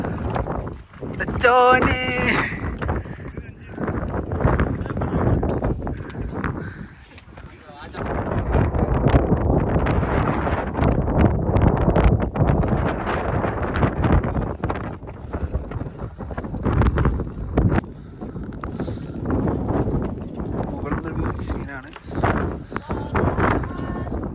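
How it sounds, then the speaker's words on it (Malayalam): Strong gusty wind roars across the microphone on the summit of Jabal al-Nour, a loud, continuous broadband rush that swells and eases, with people talking beneath it. "നല്ല കാറ്റടിച്ചാണ് നമ്മളത്"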